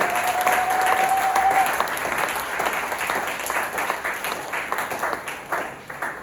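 A congregation at a church worship service breaks into loud, sustained applause, the massed clapping strong at first and tapering gently over several seconds.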